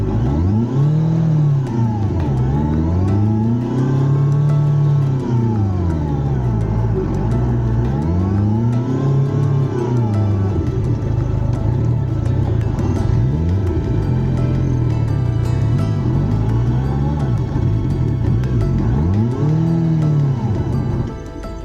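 Motorcycle stuck in mud in a Kenyan village, its engine revving hard in repeated rising and falling surges, loud and close, for about twenty seconds.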